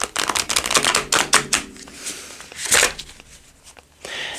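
A new deck of Tarot of Dragons cards is shuffled by hand, a rapid run of crisp riffling flutters and taps in bursts, close and clear with no talk.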